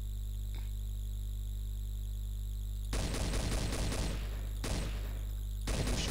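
Gunfire in Counter-Strike: after a stretch of steady low hum, loud bursts of automatic rifle fire break out in several separate volleys, sharp and close.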